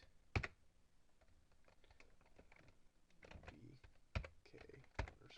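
Keys clatter as code is typed on a computer keyboard, soft scattered taps broken by a few sharper, louder clicks, up close in a quiet room.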